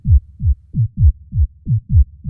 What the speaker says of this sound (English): that is your Techno Kick and Bass